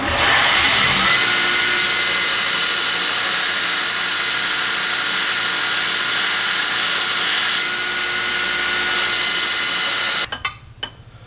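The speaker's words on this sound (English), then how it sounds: "Now we'll go over to the belt grinder and tune her up a little." Belt grinder shaping a steel punch, a loud continuous abrasive whine and hiss lasting around ten seconds with slight shifts in pitch, then cutting off into quieter clinks.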